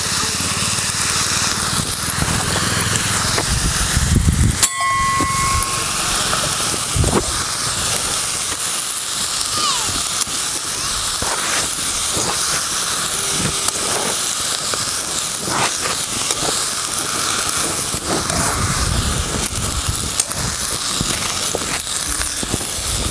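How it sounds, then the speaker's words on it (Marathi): Vegetables sautéed in hot oil in a home kitchen give a steady, loud hiss that holds for the whole stretch, with a brief sharp clatter near the start and small pops scattered through. "आता भाजी घातली आता परतून घ्यायचं भाजी"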